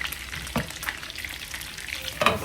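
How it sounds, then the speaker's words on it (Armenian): Cutlets frying in a pan give a steady, soft sizzle with a few sharper spatter pops and light scraping, close and continuous with no talk. "Ասենք տապակվի։"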